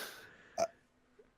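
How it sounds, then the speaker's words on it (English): A man burps after drinking beer too fast, giving a short, close belch-like burst followed by a second brief burst about a second later in an otherwise quiet room. "I can feel a burp coming on."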